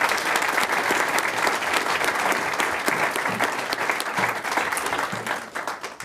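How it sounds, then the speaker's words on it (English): A room full of people at a school board meeting applauds students, a dense, steady round of clapping that stays loud and even before tapering slightly at the end, with no talk over it. "So let's give these students one more round of applause."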